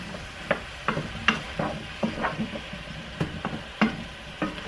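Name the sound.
mushrooms and zucchini sizzling and being stirred in a pan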